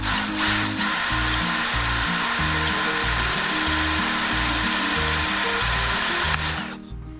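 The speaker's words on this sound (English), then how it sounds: "I'm gonna try another left-handed drill bit that's just a little bit larger" A power drill fitted with a left-handed bit grinds steadily into a broken bolt, loud and close, with a constant high whine and pulsing low rumble for several seconds before winding down and stopping.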